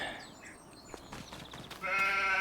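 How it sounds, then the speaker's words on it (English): Sheep in the Farming Simulator 25 game bleat in a few separate calls, one clear, sustained and loud toward the end, with farmyard background sounds in between. "Boy, we got sheep everywhere out here."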